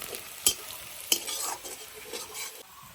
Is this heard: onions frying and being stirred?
yes